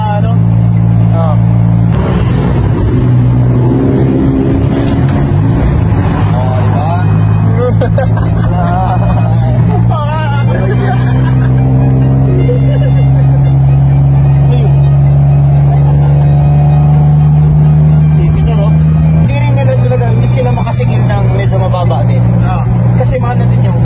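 A Filipino tricycle with a bigger-than-ordinary engine runs loudly and steadily, its low drone shifting pitch as it revs, with people chatting over the sound.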